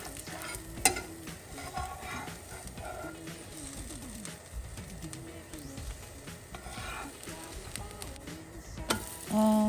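Sweet corn pancake sizzling gently in a pan as it is flipped, soft crackling frying with scraping and clinks of a utensil, fairly quiet throughout.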